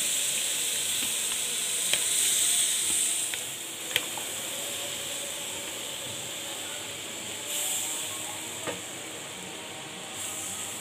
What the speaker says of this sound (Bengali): পিউরিটা জাল দিয়ে নিচ্ছি, 5 মিনিট জাল দিব